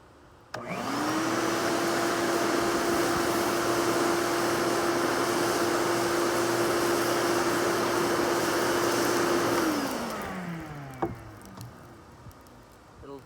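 Air pump blowing into a backyard metal foundry during curing, a loud steady whooshing drone with a sustained hum that starts abruptly, runs for about nine seconds, then winds down, followed by a few faint clanks.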